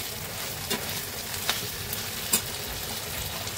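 Chilli sauce stirred and fried in a hot pan, a steady close sizzle with a few sharp scraping clicks from the spoon.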